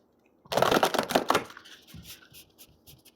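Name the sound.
shuffling a deck of tarot cards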